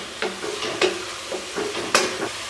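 A spiced chicken mixture roasting in a pan and stirred with a spoon, giving a low sizzle under several distinct, irregular scrapes and taps against the metal.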